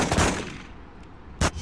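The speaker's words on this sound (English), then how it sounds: "Someone is shooting over there!" Bursts of gunfire from the 2004 video game Spider-Man 2 ring out, with two loud shot clusters separated by a quieter gap, sharp and close.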